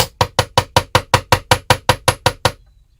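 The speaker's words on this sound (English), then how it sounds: "and I'm hammering just the end." Hammer strikes on the end of a handmade metal bracelet, about fourteen sharp, evenly spaced close taps in a steady rhythm, then silence.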